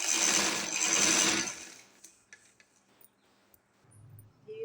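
A sewing machine runs loudly for about a second and a half while stitching a double cuff, then stops, leaving faint clicks and handling noises.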